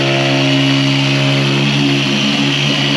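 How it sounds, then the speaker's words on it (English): A power sander runs loud and steady against the front of a boat console during a 25-foot Parker SE boat restoration, a continuous buzzing drone with no break or talk. "now he's sanding the front of the console."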